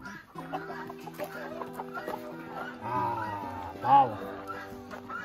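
Roosters cluck and call at a rooster farm, several birds close by in a short run of calls, with a louder squawk near the end and some background noise.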